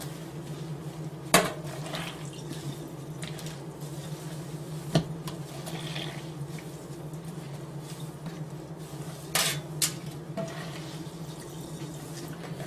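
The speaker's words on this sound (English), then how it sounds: "we're going to gently press out the water" Washed wool pressed gently by hand over a sink, with soft watery squelches and drips under a low steady hum, plus a few sharper knocks and splashes scattered throughout.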